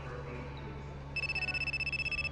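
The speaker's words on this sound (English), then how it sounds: "Hang on, my phone is ringing." Phone ringing in the video game Return to Shironagasu Island, a pulsing electronic trill that starts partway through over quiet background ambience.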